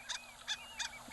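Recorded call of a harlequin duck: three short, squeaky nasal notes spaced evenly over about a second, with a faint whistle-like tone running between them, fairly quiet and alone.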